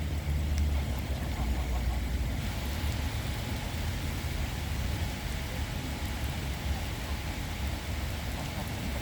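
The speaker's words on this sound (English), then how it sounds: "it's the pouring down kind thing happening and I don't have a raincoat on." Heavy rain pours down at a pond in early autumn, a dense, steady hiss of drops filling the air throughout, close and loud.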